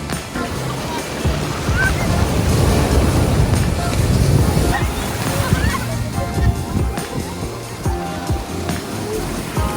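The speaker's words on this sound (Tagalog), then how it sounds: "Lakas ng alon." Powerful ocean waves crash and roll loudly and continuously at the beach in San Juan, La Union, Philippines, a churning surf roar with wind, while voices are faintly heard underneath.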